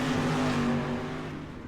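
Street stock race cars battle at Kern, engines droning loudly as one car's pitch slides downward and the roar eases slightly toward the end, with no voices.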